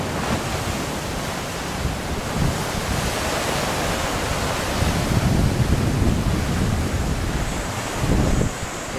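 Big ocean waves churned up by Cyclone Yasi roll onto a beach, a continuous roaring surf mixed with heavy wind buffeting, swelling louder in places, with no voices.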